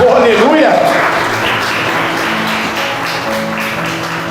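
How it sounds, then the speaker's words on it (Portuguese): A church congregation claps together in a dense, continuous round of applause, close and loud, with a voice exclaiming over the start before the clapping settles into a steady patter. "Palmas para Jesus novamente"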